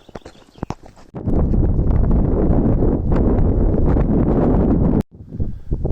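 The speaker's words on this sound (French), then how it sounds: "Il y a un vent de fou furieux là, sur la crête." Fierce wind howls across a mountain ridge at sunrise on the GR20 trail, beginning with quieter gusts and then a loud, continuous buffeting roar that cuts off abruptly near the end.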